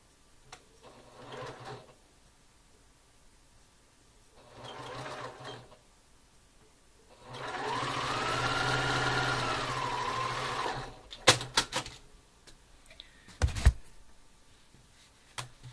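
A sewing machine stitches quilt fabric in short bursts: two brief runs, then a longer, steady whirring stretch, followed by a few clicks and knocks as the fabric is handled.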